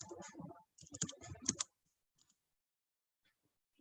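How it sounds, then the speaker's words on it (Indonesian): Quick bursts of close computer keyboard typing as a name is entered in a Mendeley document, clustered clicks over about a second and a half, then near silence. "Kemudian kita ketik manual namanya, Priyanto."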